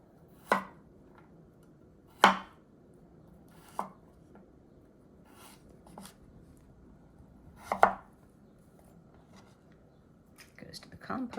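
Knife chopping vegetables and trimming stems on a cutting board, heard as five or six sharp, separate chops spaced unevenly amid quiet room tone, with a light scuffle of movement near the end.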